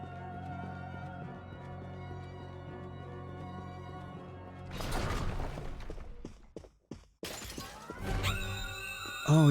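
Stained glass monster shattering in the game Bloodstained: Ritual of the Night, a burst of crashing, splintering glass breaking through steady game music, with a few sharp cracks and a brief drop to near silence before more debris and music return.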